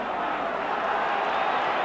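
Roughly 40,000 spectators fill Ibrox stadium for a Rangers v Dunfermline football match, a broad, steady crowd roar heard from a distance and unbroken through the moment.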